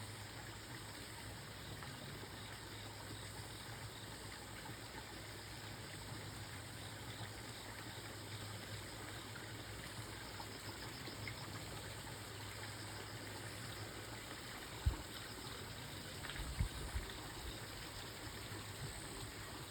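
Steady babbling stream water at Lodge Sugisawa in Seki, Japan, a continuous broadband rush heard alone at a moderate distance, with a couple of brief knocks near the end.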